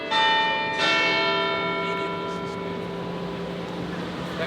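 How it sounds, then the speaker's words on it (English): A large church bell strikes twice in quick succession, its bright ringing tones hanging and slowly fading into a long resonant decay, loud and near, amid faint background murmur. "the chimes of Westminster Abbey"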